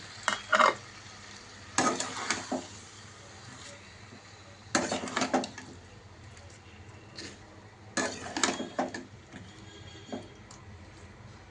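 A spoon scrapes and stirs a vegetarian potato curry, aloo dum, in a pan. Several close bursts of scraping and clinking are separated by quieter gaps with a soft sizzle underneath.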